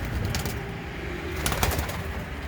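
Homing pigeons coo inside their coop, a soft, continuous murmur of low calls layered over one another, with a few brief brighter rustles partway through and no talking.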